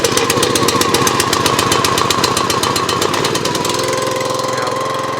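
A SuperHandy 25 ton log splitter's small gas engine fires up after a pull start and runs loud and close with a rapid, steady chugging beat, settling into a smoother idle near the end.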